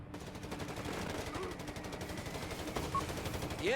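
Machine guns rattle in continuous rapid bursts across a Company of Heroes 3 urban battle, mid-distance and steady, with faint game effects and a rising whine near the end.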